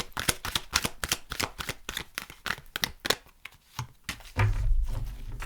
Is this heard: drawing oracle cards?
yes